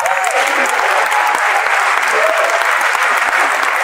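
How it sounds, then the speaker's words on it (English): A concert audience at a first show in Memphis, Tennessee, breaks into loud, sustained applause, a thick continuous roar of clapping with faint cheers rising through it. "Give yourself a round of applause."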